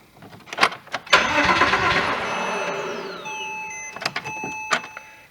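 A 2006 Porsche Boxster 987, with a faulty convertible top and a brake warning showing, cranks through a start attempt: a few seconds of strained, grinding turnover, close and fairly loud, with electronic warning chimes and short clunks around it.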